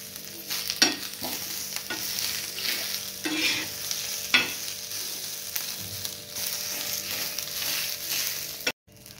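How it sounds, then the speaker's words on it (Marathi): Onion sautéing in a pan until reddish gives a steady, close sizzle, with stirring scrapes and clinks at irregular moments and a brief cut at the very end. "कांदा आपल्याला एक व्यवस्थित परतवून घ्यायचा आहे."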